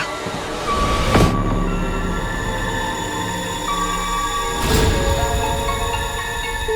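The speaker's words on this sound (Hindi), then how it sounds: "ट्रेन निकल जाएगी" A train rolls past on a railway in a TV crime drama scene, a loud, close, continuous rumble of wheels and cars with metallic screeching tones and two sharp rushing peaks as carriages pass.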